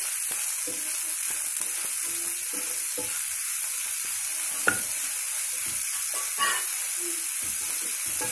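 Spices frying and being stirred in a pan for coriander rice, a steady bright sizzle with repeated scraping strokes of a spoon throughout, close and continuous.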